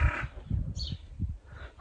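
Birds squawking with harsh, crow-like caws, several short rough calls in quick succession, fairly close and moderately loud over faint background noise.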